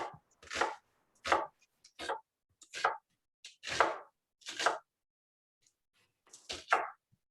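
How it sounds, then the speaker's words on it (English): A knife slices an onion into half moons on a cutting board, producing about a dozen crisp, close chopping strokes in irregular pairs and singles, with quiet gaps between them and no talk. "I'm just going to slice this onion in half moons"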